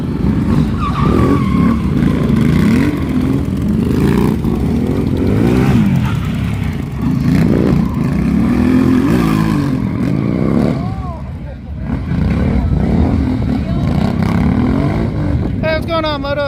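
A Harley-Davidson Sportster S motorcycle roars at a drag race amid loud revving and rising, falling engine wails, with crowd noise and people talking over it.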